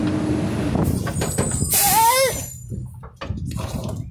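A garbage truck's air brakes release a loud, close hiss that swells and falls away amid rumbling truck noise.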